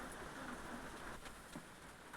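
Steady rainfall over a surface, a soft, constant hiss dotted with occasional nearer drop impacts, low in level and continuing unbroken for a couple of seconds without speech.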